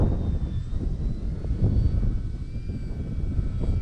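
A Durafly Tundra RC airplane flies full speed into the wind outdoors, giving a steady droning motor whine with faint high tones over loud, gusty wind rumble. No one speaks.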